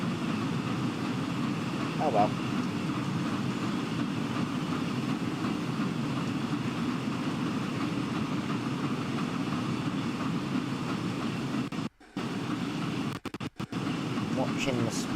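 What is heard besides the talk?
train running in motion, Rail 200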